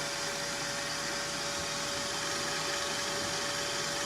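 An electric mixer whipping meringue with cream of tartar on high speed hums with a steady, even whir and a faint tonal buzz, close and constant, with no voices.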